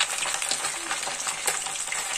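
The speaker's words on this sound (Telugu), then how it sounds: "చూడండి చేపల ఫ్రై చేస్తుంది. ఫస్ట్ వచ్చేసి మనం డీప్ ఫ్రైకి ఆయిల్ పోసుకోవాలి." Fish pieces deep frying in hot oil give a steady, close, bright sizzle with crackling pops throughout, and no talk.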